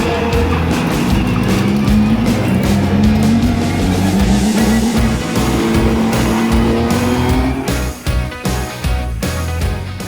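Ligier JS P235 prototype race car at speed on a wet track, its engine droning loud and steady with rising pitch sweeps as it accelerates, some shifts and tyre noise near the end.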